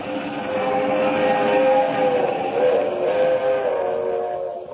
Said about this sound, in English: The cracked streamliner of the West Coast Railroad rushes through the dark at 80 miles an hour